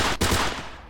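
A single loud, sharp gunshot from a weapon in the S.T.A.L.K.E.R. Clear Sky video game, running with the OGSM CS 1.8 and Deadly Winter mods, followed by a short decaying tail.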